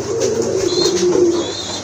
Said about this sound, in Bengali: এখানে কিন্তু আরেক জোড়া রেড রাজগোল্লা কবুতর চলে আসছে